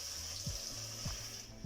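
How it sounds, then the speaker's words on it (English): Tap water runs steadily into a sink to rinse matoke and other produce, a continuous close splashing flow with a few low thumps and no talking. "So this is how I'm just going to add some water."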